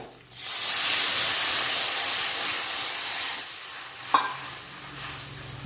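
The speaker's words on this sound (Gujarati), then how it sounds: "હવે આની અંદર નાખી દઈશું છાશ" Buttermilk poured into crumbled rotlo spiced with coriander-cumin powder and garam masala in a hot pan bursts into a loud, steady sizzle, then settles into stirring with a brief scrape near the end.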